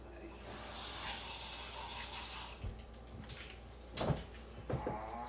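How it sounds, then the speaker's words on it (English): Tap water runs briefly into a pan at a kitchen sink, a steady soft splash for a few seconds, followed by faint clatter and a couple of light knocks. "I'm going to run just a little bit of water in this."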